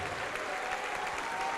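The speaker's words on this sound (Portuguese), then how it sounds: "E se você crê, aplauda." A church congregation applauds during a Portuguese-language worship service, a dense, even wash of many hands clapping that carries on steadily with no voices above it.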